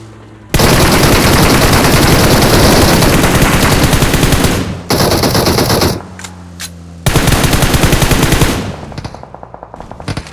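Sustained automatic machine gun fire in a video game, loud and close, in long rapid bursts that each run for several seconds, with brief gaps and a few isolated shots between them.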